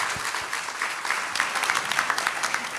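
Audience applause at a church baptism celebration, a steady wash of many hands clapping for nearly three seconds, moderately loud with a couple of low thumps near the start.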